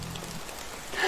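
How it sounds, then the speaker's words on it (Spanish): Heavy rain pours steadily in the medieval survival game Medieval Dynasty, a dense, even hiss of rainfall that swells slightly louder toward the end, with no voices over it. "Está lloviendo a cántaros."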